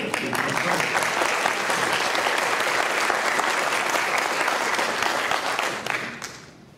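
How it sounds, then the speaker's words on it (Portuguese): A talk show audience applauds three professionals on stage with a steady, full wash of clapping that holds for several seconds before fading at the end. "vai uma bela salva de palmas para os 3 profissionais que estão ali."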